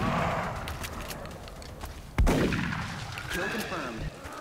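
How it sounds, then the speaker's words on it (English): Rapid-fire gunshots in XCOM Enemy Within: a sharp, loud shot cracking out suddenly mid-clip, trailed by a ringing decay and lighter mechanical clatter, amid quiet ambience. "I should probably just shoot him from here then and just do rapid fire"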